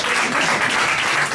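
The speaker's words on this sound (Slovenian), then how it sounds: "en aplavz za Miheta Eriča." Sustained audience applause at an art exhibition opening, dense and steady clapping from a close crowd with no talk over it.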